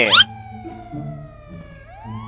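A police siren in a car-chase video game wails briefly after a sharp burst at the start, then trails off under engine and game sounds, with a faint rising tone near the end.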